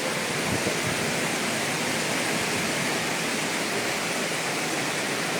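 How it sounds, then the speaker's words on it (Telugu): Water gushes out under pressure at Sita Vatika in Sri Lanka, a steady, dense, hissing rush that stays loud and unchanging throughout, with no voices. "వాటర్ ప్రెషర్ చూడండి ఎంత"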